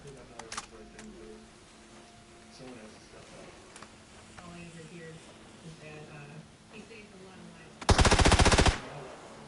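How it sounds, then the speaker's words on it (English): Automatic gunfire in the battle royale game PUBG: one loud, rapid burst of shots near the end, following quieter game sounds and scattered clicks. "I don't know if that's you shooting."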